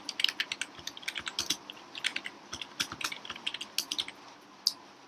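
Rapid, irregular clicking of keys on a computer keyboard while entering text into a spreadsheet cell, close and fairly quiet, with steady keystrokes running through the whole stretch and no talking.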